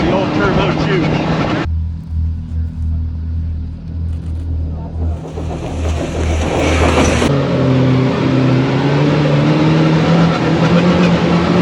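A 250 hp supercharged Kawasaki H2 motorcycle accelerates hard at full power, a loud engine roar rising through gears with a breathy supercharger whine and a brief shift gap, up close and dominant.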